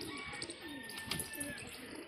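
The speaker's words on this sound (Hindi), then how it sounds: "ये अब सब ये कबूतर छोड़ दिए इन्होंने बाहर" Desi and Punjabi pigeons released outdoors coo softly amid a busy ambient background, with faint chirps and a brief flutter of wings.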